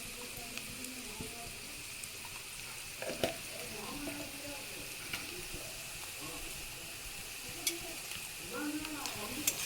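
Onions and coriander powder fry in a pan with a continuous hissing sizzle and occasional stirring scrapes, fairly quiet, with some faint talk now and then.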